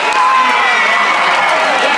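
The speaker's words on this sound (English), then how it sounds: "Give yourselves a massive round of applause." A student conference audience at a closing ceremony claps and cheers, a loud dense wash of crowd noise with whoops, sustained throughout.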